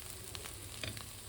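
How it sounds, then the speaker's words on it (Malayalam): Clam meat frying in oil in a pan, a steady close sizzle with a few brief crackling pops and no voices. "കക്ക ഇറച്ചി നന്നായിട്ട് ഫ്രൈ ആയി വന്നിട്ടുണ്ട്."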